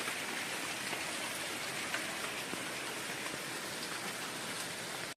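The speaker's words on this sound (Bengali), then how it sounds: "এদিকে বৃষ্টিও তেমনি পড়ছে প্রচণ্ড বৃষ্টি হচ্ছে" Heavy rain pours down during a storm, a dense, even hiss of drops on surfaces that holds steady and fairly loud throughout before cutting off abruptly at the end.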